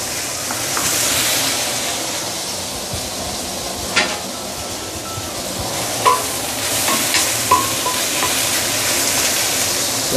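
Okra with sambal sizzles and hisses steadily in a hot pan during stir-frying, a loud continuous frying noise punctuated by occasional clinks and scrapes of a utensil against the pan.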